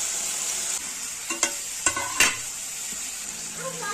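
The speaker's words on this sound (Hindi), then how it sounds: "पियाज ये पकईदेली मु सब मसला ये पकईदेली" Onion and spices fry in a pan for a fish curry, a steady close sizzle running throughout with a few sharper stirring scrapes and clinks breaking through.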